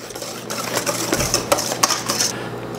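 Flour being stirred into pecan pie batter in a bowl, with a utensil scraping and clinking against the sides in quick, close, irregular strokes.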